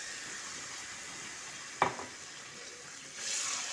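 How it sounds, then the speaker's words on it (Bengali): Marinated chicken being stirred into masala in a pan: a quiet background, one brief clatter of a utensil midway, then a soft sizzle that rises near the end. "চিকেনটা দিয়ে মশলার সঙ্গে একটু মিশিয়ে দিচ্ছি।"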